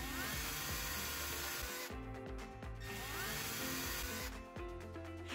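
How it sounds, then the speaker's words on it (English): Power drill whirring in two bursts, close and loud, pre-drilling screw holes for a security camera mount, with a pause of quieter rattling between them. "using a drill bit slightly smaller in diameter of the mounting screws, pre-drill the 3 screw holes"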